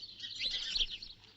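A parrot chirps in a short burst of bright, close tweets set against quiet background noise, with no talking.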